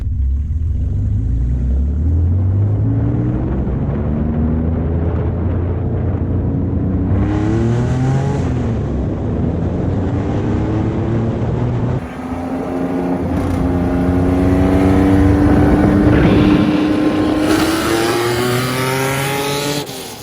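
A straight-piped classic Porsche 911T drives and revs, its raw exhaust rising and falling through several loud accelerations and gear changes, close and continuous with no talk.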